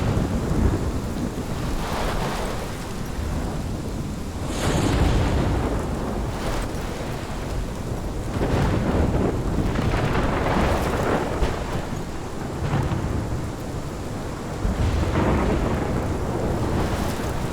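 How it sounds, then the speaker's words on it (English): A thunderstorm in the video game Life is Strange, with steady heavy rain and repeated rolling thunder rumbles swelling every few seconds, loud and close, with no voices over it. "This is my storm."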